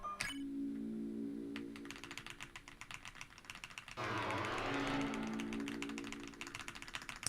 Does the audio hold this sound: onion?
no